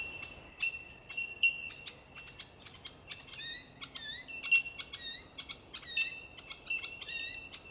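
Bellbirds call in the Australian bush, a steady chorus of ringing, high-pitched tinkling notes repeating every second or so, with fainter chirps from other birds behind and no talking.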